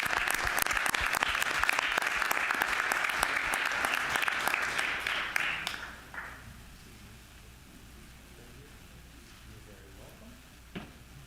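A group at a school board of education meeting claps briskly for a student for about six seconds, then the applause stops abruptly and leaves quiet room tone with a faint knock near the end.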